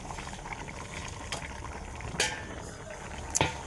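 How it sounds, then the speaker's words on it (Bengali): Koi fish going into simmering curry, a steady bubbling boil broken by a few sharp splashy crackles and clinks, close and alone without talk. "এখন মাছটা দিয়ে দিচ্ছি।"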